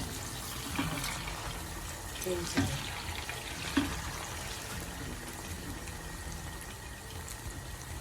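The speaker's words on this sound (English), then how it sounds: "Now I'm frying the plantain." Plantain frying in a pan of oil, a soft continuous sizzle and crackle with a few small pops, fairly faint and steady throughout.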